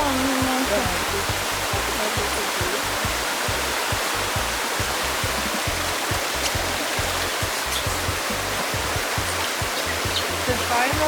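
A river rushes in a steady, loud, broadband roar near a hill in Portland, Jamaica, with constant turbulent water filling the whole clip and no talking.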